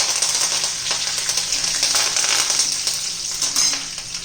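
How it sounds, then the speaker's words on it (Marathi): Curry leaves hit hot oil while tempering dal for an onion and coriander chutney, a close, continuous crackling sizzle with small pops throughout. "आता त्यामध्ये आपण कढीपत्ता घालणार आहोत थोडासा"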